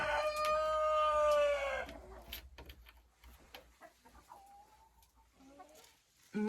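Hens on a poultry farm, with a rooster crowing loudly up close for the first two seconds, then softer scattered clucks and short calls around a nest where an egg was laid.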